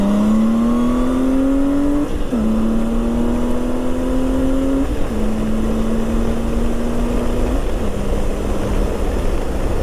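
A Honda Goldwing GL1800 motorcycle accelerating hard onto a highway, its engine climbing in pitch through several gears with brief dips at each shift, loud and close over steady wind roar.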